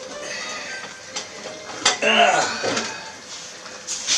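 Dishes clinking as a plate is taken out in a home kitchen while Corsican Valinco squid is being prepared, a few close clattering knocks and a ceramic clink amid room noise.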